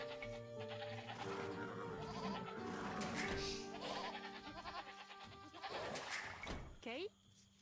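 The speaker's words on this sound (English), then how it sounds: "So many goat." Goats bleat repeatedly in the Age of Empires 2 strategy game, with several wavering calls over a dense bed of game sounds. The bleats are clear and moderately loud, and a final one ends abruptly.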